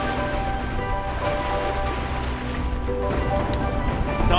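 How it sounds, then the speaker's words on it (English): Seawater rushes and sloshes past the hull of a small sailing boat pitching in building waves on a passage home from Guernsey, a steady loud wash with a low mechanical hum underneath. "you hear all the water slushing past"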